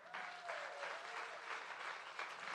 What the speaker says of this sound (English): They need a huge round of applause.